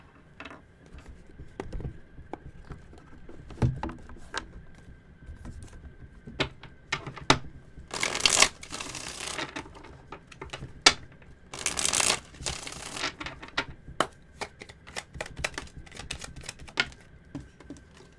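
Oracle cards are shuffled by hand in irregular papery riffles and taps, with two louder bursts of rapid flicking in the middle, close and clear, with no voices.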